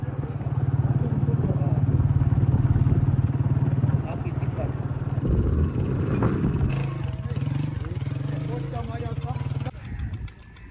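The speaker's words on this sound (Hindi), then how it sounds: "बाइक और आ चुकी है" A motorcycle engine drones steadily as it arrives in a village, loud and close, with people talking over it before the engine noise drops away at the end.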